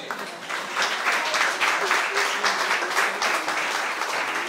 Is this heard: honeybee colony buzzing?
no